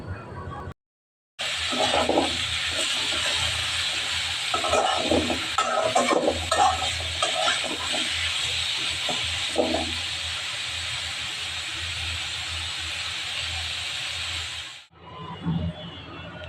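Bottle gourd greens (lau shak) fry in a pan with a continuous broad sizzle and hiss that runs steadily for most of the time, with occasional stirring clatter, then cuts off abruptly near the end.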